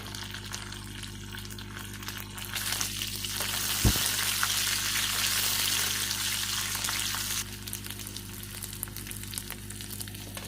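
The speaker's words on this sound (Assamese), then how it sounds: "ভালকৈ মই ফ্ৰাই কৰি ল'ম মাছখিনি।" Dried bamla fish and chopped green chilies fry in a pan, giving a steady hiss of sizzling oil that swells louder and brighter through the middle before settling back, with no voices present.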